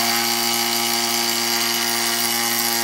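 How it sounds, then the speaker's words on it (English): Vacuum bag sealer from a laser copier setup running with a steady, loud, unbroken mechanical whine and hum throughout, no voices. "Place it inside the sealer,"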